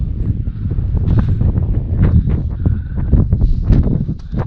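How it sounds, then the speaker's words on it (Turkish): Strong wind gusts buffet the microphone outdoors in snowy southeastern Turkish highlands, loud and uneven with rumbling surges and rustling. "İnanılmaz da esiyor."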